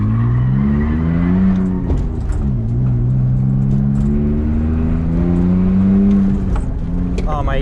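A BMW E46 drift car on a track, its engine droning loudly and continuously with rising and falling revs throughout, a rough rumble shifting pitch as it drifts, with a brief sharper burst near the end.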